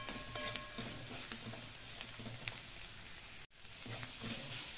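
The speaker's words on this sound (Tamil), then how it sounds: "இப்போ தேங்காயும் கொஞ்சம் வதங்கிடுச்சு" Coconut pieces sautéing in a pan for a Kerala-style prawn coconut fry: a close, continuous sizzle with intermittent scraping clicks of stirring and one brief dropout near the end.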